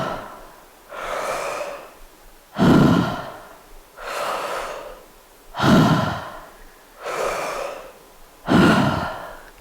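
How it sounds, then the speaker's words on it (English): Slow, deep yoga breathing during an advanced vinyasa flow: six breath cycles with audible airy inhales alternating with heavier, lower exhales in a steady rhythm, close and clear with nothing else heard. "Nice, slow, big, deep breaths."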